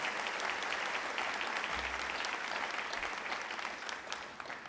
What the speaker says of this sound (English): Let us give our guests another round of applause